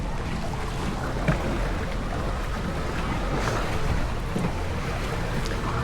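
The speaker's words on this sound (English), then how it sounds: "Nice little river ride." A log flume boat gliding along a water channel at Europa Park, a steady rushing wash of water and wind buffeting the microphone, close and continuous with no talk.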